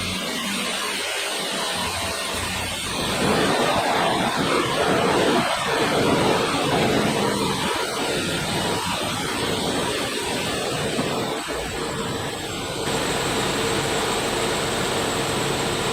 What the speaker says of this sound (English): Now it's started and it's running fine.